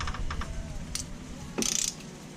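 Close, quick clicking of a socket ratchet on the oil drain plug of a quad, a short burst of rapid pawl ticks after a few lighter metallic taps.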